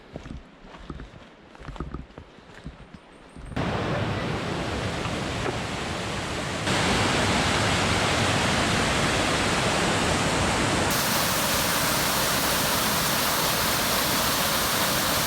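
A creek crossing on the hiking trail up Mt Washington by Huntington Ravine: steady, loud broadband rush of flowing water, close by, swelling stronger partway through and continuing unbroken without any voices.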